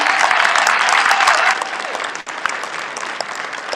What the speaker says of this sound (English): please give a round of applause for our student group, Rhythm and Ruse